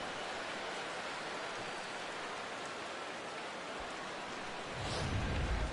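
Steady broadband rain hiss falls on a baseball stadium during an MLB The Show 17 game, a constant wash of drops with a low rumble swelling near the end.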